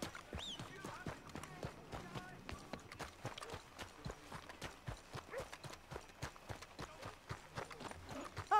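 Horse hooves clip-clop in a steady, fairly close rhythm while riding in Red Dead Redemption 2, with a voice talking over the hoofbeats.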